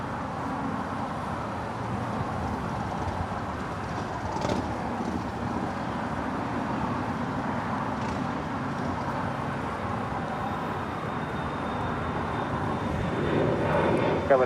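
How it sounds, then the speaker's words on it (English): A Cessna Citation Latitude business jet arriving at Los Angeles International Airport gives a steady, broad engine roar that holds for many seconds and swells slightly near the end, heard from a distance in open air. "Citation latitude is coming in from Reno,"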